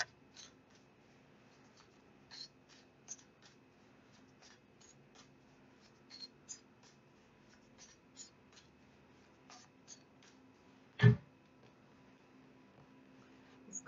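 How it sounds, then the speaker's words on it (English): A new deck of tarot cards is handled and shuffled, giving light papery flicks and soft taps scattered through a quiet room, with one sharper louder knock near the end and no talk. "These cards have such a different noise to them than the other ones did."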